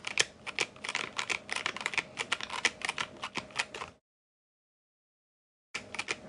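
Rapid keystrokes clatter on a KBD67 Lite R2 mechanical keyboard, a close, dense run of clicks for about four seconds, then silence before typing resumes briefly.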